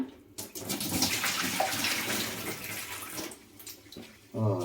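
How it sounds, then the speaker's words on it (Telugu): Raw prawns are washed by hand in a bowl of water with vinegar: close splashing and sloshing rise and fall in uneven bursts, with a brief murmur at the end. "కొద్దిగా వాటర్ ఉంచి దాంట్లో పొయ్యాలి వెనిగర్తో కడిగితే చాలా బాగుంటుంది"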